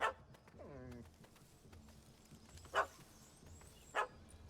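A dog in The Witcher 3 barks in short, sharp bursts, one at the start and two more spaced a second or so apart, over quiet game ambience with a faint hooting call between them.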